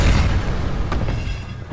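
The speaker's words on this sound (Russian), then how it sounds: "Пускай взрываются." A low, rumbling explosion in the video game Dying Light, a loud sustained boom with broadband roar that slowly tapers off, with no talk over it.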